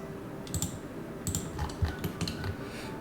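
Computer mouse clicking while drawing dimensions in Archicad CAD software, a few light, sharp clicks spaced irregularly and close by, with faint keyboard-like taps over a low room hum.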